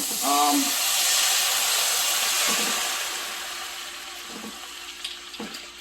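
Wine poured into a hot pan with butter and capers for piccata sauce gives off a broad, steady steaming hiss that slowly fades, with a brief voice near the start.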